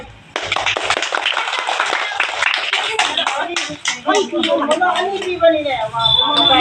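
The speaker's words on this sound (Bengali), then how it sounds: "তালি দেন সবাই" A crowd at a village prize-giving for a girls' stick-catching game claps loudly and steadily. The applause runs throughout, with people talking over it toward the end.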